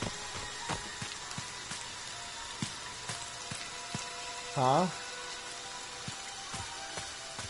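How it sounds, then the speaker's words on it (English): Rain falls steadily in the video game Friday the 13th, a soft constant patter with faint ticks and drips under a short spoken exclamation. "It's so rainy!"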